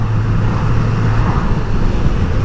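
A 2021 Suzuki GSX-S 1000 motorcycle accelerates along a road, with a steady, loud engine drone and rushing road and wind noise that hold constant throughout, no voices heard.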